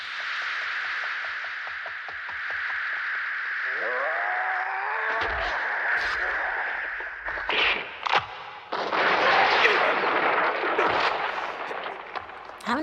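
Gunfire from the anime Wicked City, with loud bursts of shots and impacts breaking through a sustained, droning soundtrack.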